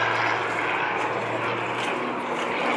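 Aerobatic display airplane flown by Matt Hall over a powerboat event at Yarrawonga, its propeller engine droning loud and steady overhead with a slight wavering pitch as it maneuvers.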